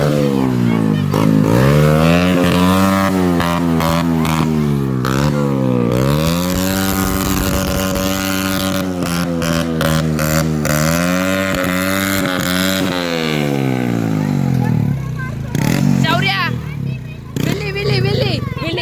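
A Bajaj CD 100 motorcycle engine revs loudly and close by outdoors during a Shiv Jayanti celebration, its pitch rising and falling in long sustained pulls for about fifteen seconds before dropping away as voices come in.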